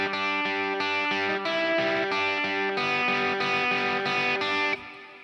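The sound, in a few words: electric guitar playing a lead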